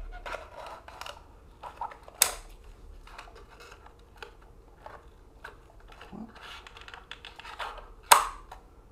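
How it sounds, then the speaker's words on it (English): Scissors snip through plastic blister packaging of a G.I. Joe Classified Cobra action figure, a series of close, crisp irregular cuts and crinkles with two sharp louder snaps. "We'll just cut it with scissors."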